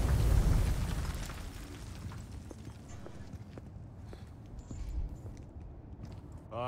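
Flashbang grenade detonating in Resident Evil 4 Remake, a loud burst at the start that decays into a ringing, rumbling aftermath with scattered faint clatters.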